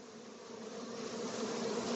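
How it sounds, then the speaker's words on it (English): A honeybee swarm fans at a hive box, a steady close insect hum with a tonal buzz that swells slightly louder toward the end, with no voices. "They're starting to fan, and the bees in the air are coming to the box"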